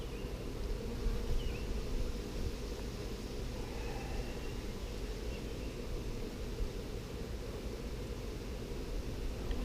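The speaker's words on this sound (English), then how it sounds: "popped some smoke to get the bees to move out of the way." Honey bees swarm around an opened hive that has just been smoked while new frames are fitted, giving a steady, dense buzzing drone that holds evenly across the whole stretch with no talking.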